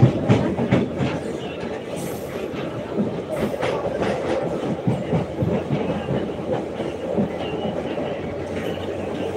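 Indian Railways passenger train running from Baramati to Pune, heard from inside a crowded coach: a steady loud rumble of wheels on track with clickety-clack beats and occasional metallic squeals throughout.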